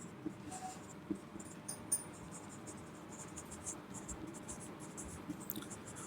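Marker writing on a board during a Hindi-language economics lecture about central bank functions, faint intermittent scratchy strokes and taps in a quiet room with low background hiss.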